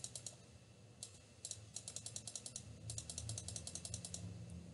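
Rapid bursts of small plastic clicks from a computer mouse during Photoshop editing come in quick irregular clusters with short pauses, faint and close against quiet background noise, no speech.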